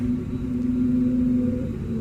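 Pratt & Whitney jet engines on an Airbus A319 in a flight simulator give a steady, loud low rumble with a constant droning hum as the airliner begins to taxi, continuous throughout.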